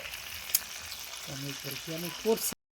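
Tandoori chicken pieces frying in a pan, a continuous close sizzle and crackle with light stirring, while a person talks over it.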